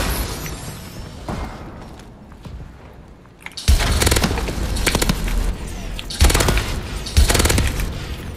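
Gunfire in Call of Duty Advanced Warfare's Exo Survival mode, with heavy bursts of shots and sharp impacts in several loud clusters after a quieter opening stretch.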